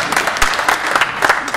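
A brief burst of audience clapping at a live folk concert, quick uneven slaps from a moderate crowd, close and fairly loud over a short span.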